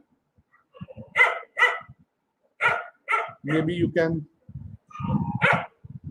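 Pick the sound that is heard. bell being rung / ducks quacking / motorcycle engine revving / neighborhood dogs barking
neighborhood dogs barking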